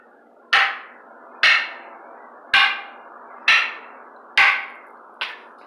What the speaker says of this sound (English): you're going to hit the stick, the shield stick